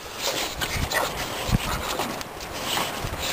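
A dog pants rapidly up close, with brief whimpers mixed in and a single sharp yip partway through, against a quiet indoor room at a family Christmas gathering.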